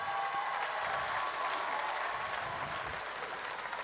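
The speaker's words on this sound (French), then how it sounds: "j'ai envie qu'on les applaudisse parce que ils sont" A large audience applauds some 200 young volunteers at the opening of an event in Dijon, a steady, dense wash of clapping that fills the whole stretch at an even loudness.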